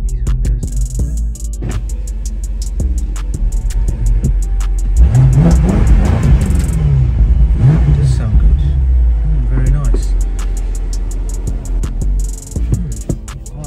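A BMW M5 engine starts and runs, a deep rumbling idle that rises into a louder throaty rev before settling, heard close with someone talking over parts of it.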